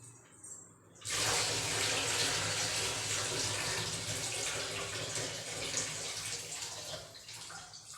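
Water is poured through a filter while chicken biryani is being made, starting suddenly with a steady, splashing rush that keeps on evenly and close by.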